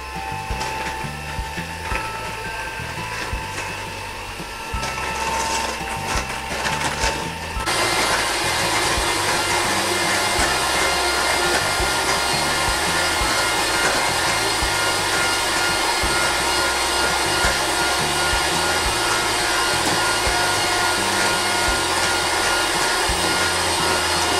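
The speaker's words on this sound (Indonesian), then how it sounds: "Yang pertama kita akan mixer dulu nih telurnya. Telur dan gula." An electric hand mixer whirs steadily as it beats eggs and sugar for brownie batter, a loud close motor drone that jumps to a higher, harsher pitch partway through and then runs on unbroken.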